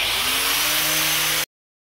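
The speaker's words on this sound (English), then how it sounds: "first thing I'm going to do is I'm going to cut the old drain out" An angle grinder cuts through an old kitchen drain pipe in a basement, giving a steady, loud, high-pitched whine that runs continuously and then stops abruptly.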